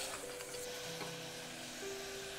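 Mustard seeds and curry leaves sizzle in hot oil, giving a steady, soft, even hiss with faint crackles and a low background hum throughout.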